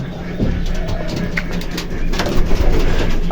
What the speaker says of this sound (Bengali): এখানে আছে একটা সাদা কবুতর আর সাদা কবুতর দেখতে খুবই সুন্দর